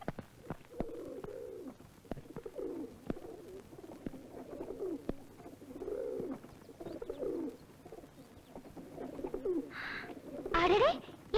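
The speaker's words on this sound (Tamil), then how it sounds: "அடடே, இங்க பேர்ட்ஸ் எல்லாம் இருக்கே" Pigeons or doves coo repeatedly nearby in soft, low, rolling phrases at a steady rhythm, and a brief rustle or flutter comes near the end.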